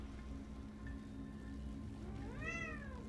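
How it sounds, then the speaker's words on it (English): A domestic cat meows once, a short rising-then-falling call near the end, fairly close and clear over a low steady background hum. "Meow."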